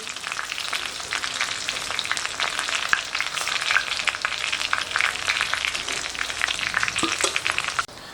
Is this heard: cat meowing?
no